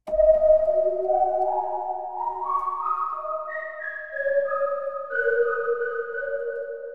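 Pure, pinging electronic tones from a Serum synthesizer sonar-like patch step up and down in sequence, each ringing out with a smooth sonar-like echo, clean and alone.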